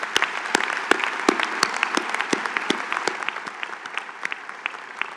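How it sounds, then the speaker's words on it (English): An audience at a spring university commencement ceremony for a college of architecture and planning claps in a dense, steady round of applause, with sharp individual claps standing out near the microphone. "a round of applause for all of your supporters and for this great faculty"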